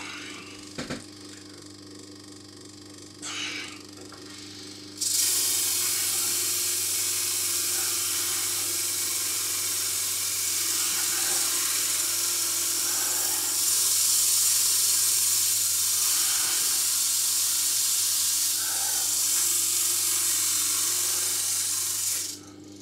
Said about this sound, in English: First one, a little sandy station.